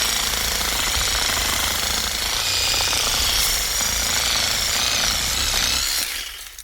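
AL-KO cordless reciprocating saw cutting with its stock blade, a loud, continuous buzzing rasp with no pauses that drops away abruptly near the end.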